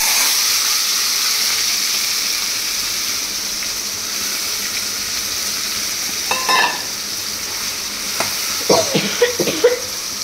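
Ridge gourd paste hits hot oil already fried with dried chili and black cumin, giving a loud steady sizzle that fades slightly, followed by a few clattering stirs and knocks near the end.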